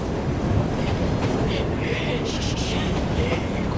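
Inside a train in Assassin's Creed Syndicate, the carriage rumbles steadily on the rails as a dense, loud roll with faint rattles, and a voice speaks briefly over it.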